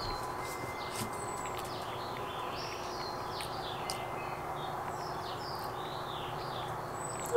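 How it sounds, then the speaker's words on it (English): Scattered bird chirps and short tweets ring out softly in a backyard, coming every second or so over a low, steady background hum. "Listen to the birds."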